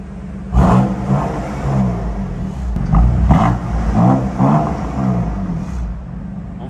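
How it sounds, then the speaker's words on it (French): A BMW M2 Competition tuned to about 530 hp starts up in a car park, its engine rumbling and surging through several revs that rise and fall steadily, loud and close throughout. "Là on a le démarrage."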